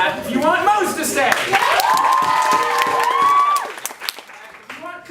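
An improv show audience votes for a performer to stay, clapping and shrieking in a long, loud, high-pitched cheer that swells and then fades into scattered claps and voices.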